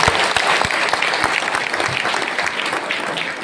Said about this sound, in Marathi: आपण सर्वांनी जोरदार टाळी वाजवा यांच्याकडे